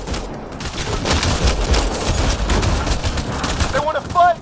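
Sustained gunfire in the video game Mass Effect: Andromeda, a loud, continuous rattle of shots and impacts with a brief chirpy electronic sound near the end.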